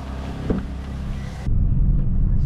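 A car travels along a road in Sri Lanka, a steady close rumble of engine and road noise that shifts to a heavier, lower roar halfway through, with no voices.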